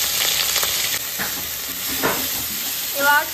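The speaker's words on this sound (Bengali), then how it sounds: "এবার সব মশলাগুলোকে ভালো করে কষিয়ে নেবে" Masala paste of ground spices and chilli being fried and stirred in a pan: a continuous bright hiss of sizzling oil with scraping strokes from the spatula, close and fairly loud.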